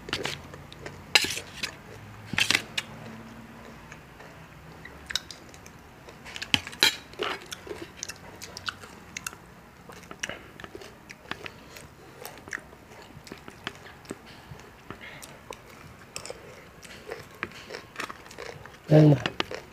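Someone eats spicy banana som tam (pounded green banana salad), giving wet chewing, bites and occasional clinks of a spoon against a dish, close and irregular, while people talk nearby.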